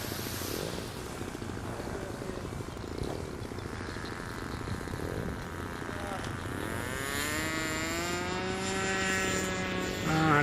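Propeller engines of a model B-17 bomber drone steadily as the aircraft flies a go-around circuit outdoors, rising in a Doppler-like sweep as it passes closer near the end.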